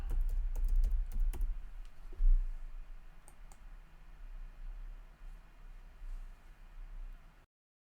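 Computer keyboard keys typed in a quick burst of clicks early on, then fainter scattered taps over a low steady room hum, close and fairly quiet.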